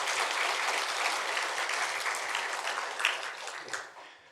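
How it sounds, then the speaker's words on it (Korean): A church congregation applauds, a dense burst of many hands clapping together that continues steadily and then tapers off at the end. "박수 한번 해주시면 감사합니다."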